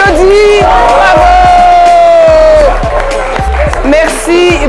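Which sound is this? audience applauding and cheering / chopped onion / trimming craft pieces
audience applauding and cheering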